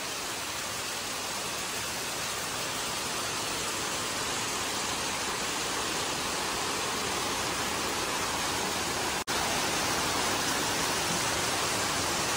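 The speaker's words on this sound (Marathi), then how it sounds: "खाली जोरात पाऊस पडतोय ना" Heavy monsoon rain pours steadily in Konkan, Maharashtra, a dense, continuous hiss with no breaks and no voices.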